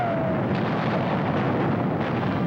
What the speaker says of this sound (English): Berlin, once mighty metropolis of a proud nation, now crumbles under the merciless pounding of Russian artillery.